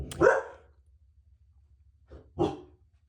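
Two sharp barks from a nearby dog, spaced about two seconds apart with quiet in between.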